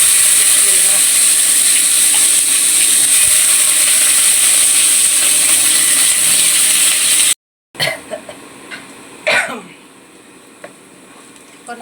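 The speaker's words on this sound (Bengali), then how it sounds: "এখন আমি দিব পেঁয়াজ আর কাঁচামরিচ কুচানো।" Chopped onion and green chili hit hot oil in a pan with a loud, sustained hissing sizzle, which then cuts out and gives way to quieter scraping and clinking of stirring.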